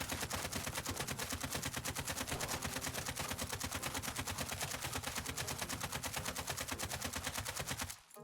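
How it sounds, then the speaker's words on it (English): An AK-47 emptying a full 70-round magazine in Call of Duty Warzone: rapid, unbroken automatic gunfire at an even rhythm for about eight seconds, loud and close, stopping abruptly at the end. "that's me letting off the entire 70 round mag"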